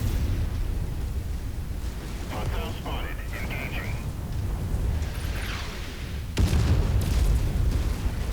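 Artillery shells land in MechWarrior 5: Mercenaries, low rumbling booms and bursts mixed with mech gameplay noise, a heavier blast near the end, while someone talks over much of it.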